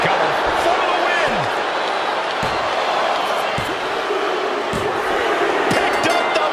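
A wrestling video game crowd, WWE 2K25, roars steadily and loudly throughout, with cheering and sharp slam and impact thuds punctuating the constant arena noise.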